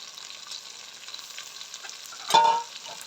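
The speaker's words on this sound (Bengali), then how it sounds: "মশলাটা ভালো করে কষাই নিব।" Spice masala with turmeric, coriander powder and ginger garlic paste frying in a pan for prawn pulao, a steady low sizzle with a louder scraping stir near the end, no voices.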